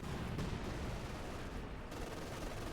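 Machine gun fire in the video game Company of Heroes 2, a steady, dense wash of distant gunfire and battle noise running continuously at low level.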